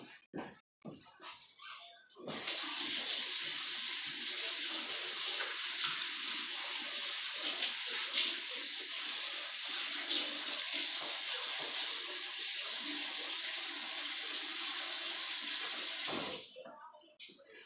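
Tap water runs steadily into a sink as latex gloves are rinsed, a continuous splashing hiss lasting most of the clip with a few brief knocks before and after.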